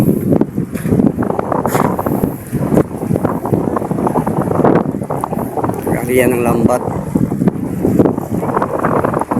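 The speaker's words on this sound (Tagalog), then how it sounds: "malakas ang hangin dito" Strong wind buffets the microphone in constant gusty rumbling at a public market in Calubian, while someone talks throughout, with a faint whine of a boat motor in the background.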